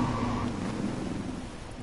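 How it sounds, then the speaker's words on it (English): Steady rain in the DriveClub racing game, falling on a windowless Wombat Typhoon car, a dense continuous hiss with low rumble that holds evenly throughout. "this is rain"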